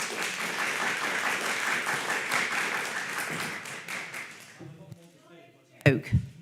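Applause breaks out in a council planning sub-committee meeting, a loud run of clapping that fades after a few seconds, followed by a brief spoken remark.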